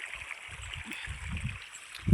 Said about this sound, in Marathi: वड्यातलं पाणी चालू आहे इकडं